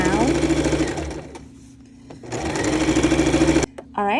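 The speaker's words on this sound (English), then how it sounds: "All right, so we're gonna sew down." A sewing machine stitches fabric in two loud, steady whirring runs separated by a short pause, close to the microphone, with a person speaking over part of it.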